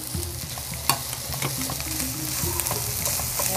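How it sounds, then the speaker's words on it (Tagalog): Shrimp paste (bagoong) sautés with garlic in a pan, giving a steady close sizzle broken by sharp stirring scrapes and clinks, with no voices. "ginisan niya na yung bagoong"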